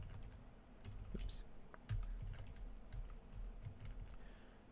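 Computer keyboard typing as a password is entered on an Ubuntu server: soft, irregular key clicks, quiet and close, over a low background hum.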